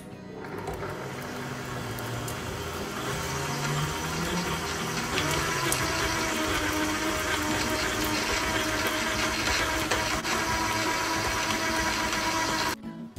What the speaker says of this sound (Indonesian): Sekarang saya kocok dulu ya.